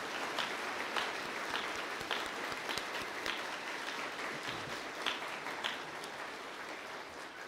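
Applause from the audience at the end of a Christian music camp program, a broad, even crowd clapping that carries steadily for several seconds, moderately distant and without speech.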